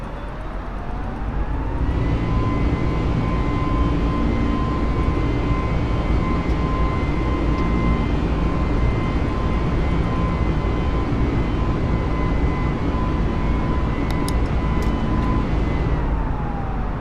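A steady, loud aircraft engine drone in Microsoft Flight Simulator 2020 holds one constant tone with a low rumbling bed, fading in at the start and continuing unbroken throughout with no talking.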